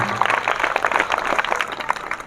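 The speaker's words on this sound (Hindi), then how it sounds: "उनके लिए भी जोरदार तालियां" An audience at a government school event applauds a local businessman who sponsored the children's project, producing steady, dense clapping that fills the short moment with no voices over it.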